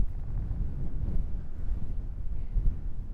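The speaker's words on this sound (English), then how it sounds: "I feel like the wind's just getting worse." Wind buffets the microphone on an open golf course, a steady low rumbling roar with gusty swells throughout, close and fairly loud, with no other clear sounds.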